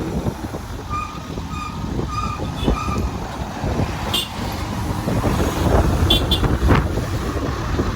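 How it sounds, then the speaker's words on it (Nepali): Rumbling vehicle engine drawing nearer on a night motorbike ride on the Itahari–Taplejung road in Nepal, with a short series of horn honks early on and the noise growing louder toward the end. "हर्न बजाउनु हुँदै साइड अगाडि आउँदै रहेछ।"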